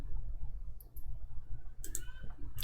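A few sharp computer mouse clicks sound close by, a pair early on and a couple more near the end, over a low hum.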